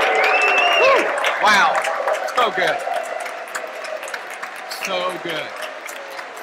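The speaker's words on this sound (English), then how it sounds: "Let's give them a round of applause." A church congregation claps and cheers under excited voices during a worship service, with people calling out and whooping over the applause.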